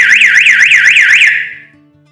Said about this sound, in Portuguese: nós vamos ligar diretamente no positivo da nossa sirene, do nosso elemento sonoro